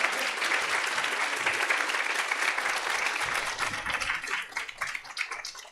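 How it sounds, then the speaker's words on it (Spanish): Audience applause at a public talk on current political challenges in Mexico, a dense, steady burst of clapping from a crowd sustained throughout and thinning slightly at the end. "Un aplauso, por favor, para John."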